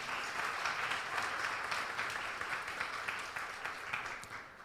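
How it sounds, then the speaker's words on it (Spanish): Church congregation applauding during a sermon, a fairly faint but sustained wash of many hands clapping that tapers off toward the end. "¿Puedes darle un aplauso fuerte a Jesús?"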